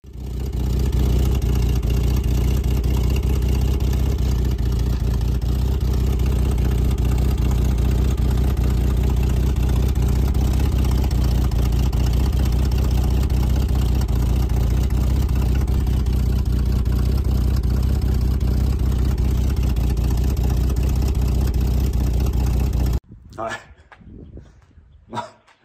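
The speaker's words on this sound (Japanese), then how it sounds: "マフラー、 俺がちょん切ったところな、あっこはもうテープが完全に取れて、もう、アメ車、V8 のアメ車みたいな音になるようになっちゃうんやけど" A car engine with a cut-off, untaped muffler idles loud and steady with a deep, throaty rumble like a V8 American car, running nearly continuously before cutting off abruptly near the end.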